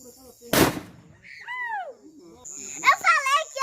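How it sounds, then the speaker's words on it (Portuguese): A São João bonfire, where a single loud firecracker (bombinha) cracks sharply near the start, followed by whistling, chirping sounds and a voice. "Como a bombinha é tão forte, quebrou."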